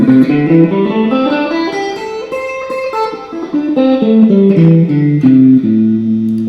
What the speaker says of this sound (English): A minor scale, which sounds like this.